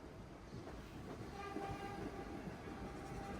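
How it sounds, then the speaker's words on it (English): A New York City subway train rumbles steadily as it pulls away from Kings Highway station, with a low continuous drone, rail clatter and faint tonal whine building slightly. "as the train's pulling out"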